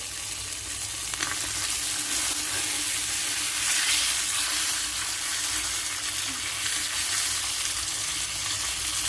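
Fish frying in a pan gives a steady, dense sizzle and hiss, close and continuous for the whole stretch, with no voices.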